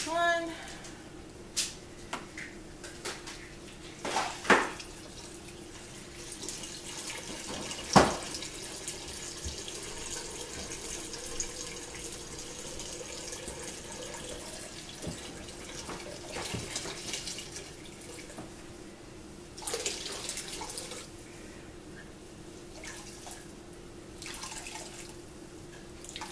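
Tap water runs steadily into a sink while washed wool fleece is rinsed, a continuous close splashing and dripping with a few louder knocks and sloshes.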